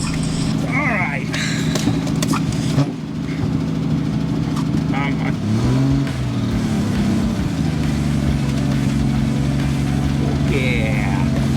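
A 1965 Ford Mustang running on fuel fed through a tube from a gas can, its engine idling steadily and rising in a couple of short revs, with people talking over it at times.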